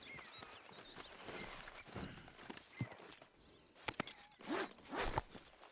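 A horse in Red Dead Redemption 2 moves at a stable, with hooves clip-clopping unevenly close by and occasional snorts and tack rustles rising toward the end.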